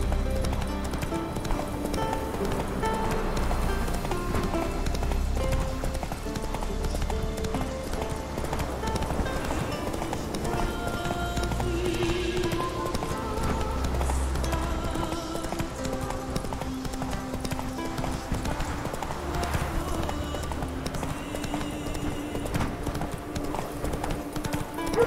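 Roach the horse gallops in The Witcher 3, hooves clip-clopping in a steady, driving rhythm throughout, layered over a dense game soundscape with a brief whinny-like tone.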